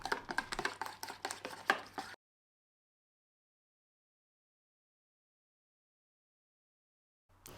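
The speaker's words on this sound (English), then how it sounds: "I'm just going to chop up some cucumbers fresh from his garden and also some green onion" A knife chops fresh garden cucumbers and green onion on a board in quick, close, rhythmic strokes for about two seconds, followed by silence.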